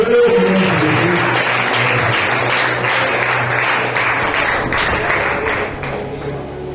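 A congregation applauds during a Thursday evangelical church service, steady, dense clapping from many people in a room with a low sustained tone beneath, fading a little near the end.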